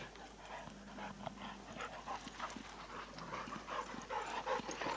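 Dogs walk through heather, panting steadily in quick soft breaths close by, with rustling and footsteps through the brush and no voices.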